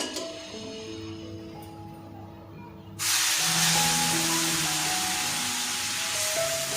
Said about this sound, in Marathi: आता आपण त्यात ते रव्याचं आपलं गुळाचं पाणी उकळलेलं आहे ना, ते रव्यात टाकूया।